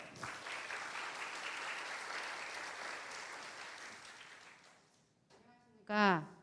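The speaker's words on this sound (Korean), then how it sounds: "큰 박수 부탁드리겠습니다" A crowd claps steadily for the opening address at a university radiology department's 2021 academic festival. The applause is moderately loud and fades out after about five seconds, and then a voice briefly speaks.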